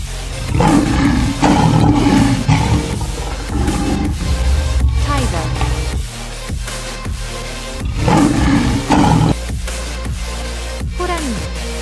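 A tiger roars loudly and close in repeated long, throaty bursts, with brief pauses between each roar.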